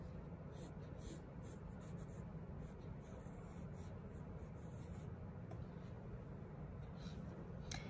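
A pencil or marker draws a dinosaur leg on paper in a steady run of soft, close scratching and rubbing strokes, faint and continuous throughout, with no talking.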